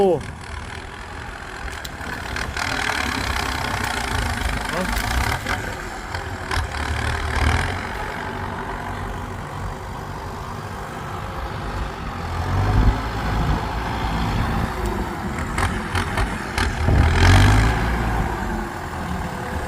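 A Kubota M6240 SUH turbo tractor engine runs nearby with a steady diesel drone that rises and falls slightly, while people talk over it outdoors.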